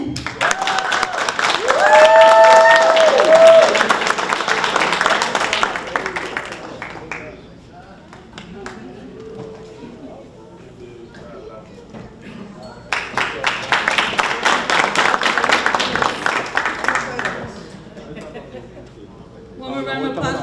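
Audience applause at a graduation ceremony for a construction training program, two loud bursts of clapping from a crowd separated by a quieter stretch with voices and some laughter.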